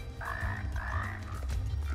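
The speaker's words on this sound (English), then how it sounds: "They sound like frogs." Frog-like creatures in the first-person shooter Immortal Redneck croak in repeated, drawn-out bursts, close and fairly loud over a low, steady game rumble.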